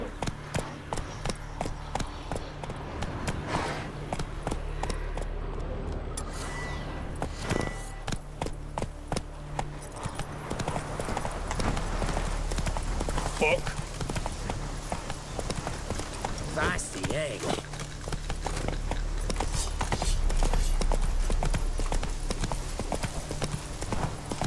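The horse Roach trots in The Witcher 3, giving a steady rhythmic clip-clop of hooves that carries on throughout, with a voice talking at times over the hoofbeats.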